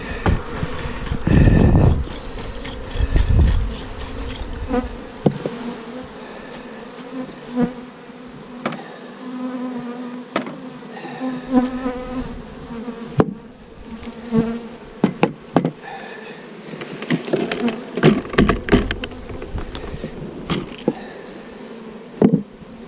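A swarm of killer bees buzzes steadily around a log during removal, a dense close drone with occasional knocks and bumps.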